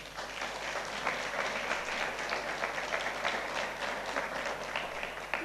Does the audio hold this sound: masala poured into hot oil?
no